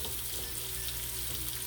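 Vegetables sauté in a pan with onion soup mix stirred in for a southern-style Sunday dinner, giving a steady, close, dense sizzle that hisses on without a break and with no talking.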